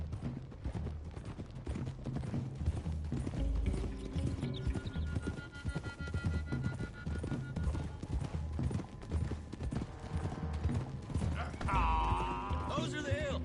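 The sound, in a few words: horses' hooves clip-clopping, from video game Red Dead Redemption 2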